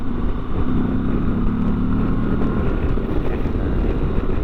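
A Moto Guzzi V85TT motorcycle engine runs steadily nearby with a deep, low, tractor-like rumble, mixed with constant wind buffeting and no voices.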